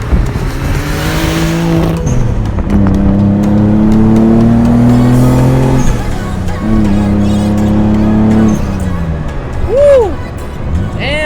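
A Mazda RX7 with a twin-turbo VG30DETT engine roars loudly from inside the car as it accelerates hard, its pitch climbing through several gears with brief drops at each shift.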